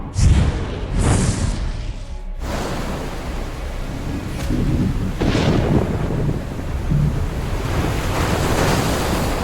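A simulated storm roars with crashing ocean waves and strong wind, loud and continuous, with surging gusts and a rumble like distant thunder.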